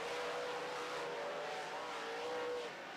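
Late model stock cars race on an oval track, one engine droning loud and steady with a slowly shifting pitch, crowd and track ambience washing beneath it.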